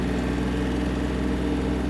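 Yanmar AF-250 Japanese mini tractor engine running with a steady, even low rumble and hum, close and continuous, with no voices heard.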